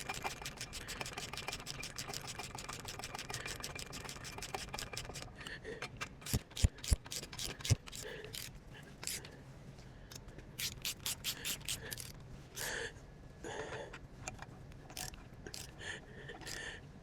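A ratchet tightening a bolt during a Cummins N14 turbo install on a cabover Peterbilt. It starts as a fast, continuous clicking run, then breaks into shorter bursts of clicks with pauses, close and clear.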